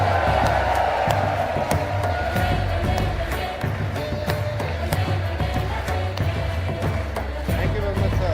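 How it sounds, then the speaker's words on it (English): An outdoor audience at a Save Soil rally cheers and claps along in a continuous, busy roar with rhythmic hand claps and scattered shouts, a voice occasionally rising above the crowd. "Clap along, ladies and gentlemen"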